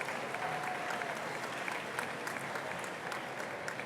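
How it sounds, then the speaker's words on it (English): Dinner audience at a chamber of commerce awards celebration applauding steadily throughout, a dense wash of many hands clapping at even loudness with no pause. "Please give yourself a round of applause for getting here in this weather tonight."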